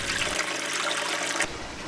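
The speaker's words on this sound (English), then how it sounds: "It sounds like there was a definite decrease in the drain noise." Water drains steadily through reef aquarium plumbing, a dense, continuous rushing gurgle with a low hum that drops out briefly near the end while the flow noise carries on.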